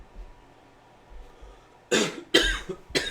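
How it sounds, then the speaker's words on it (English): Three sharp, close coughs burst out in quick succession after a near-silent stretch, each one loud and throaty. "Why am I coughing?"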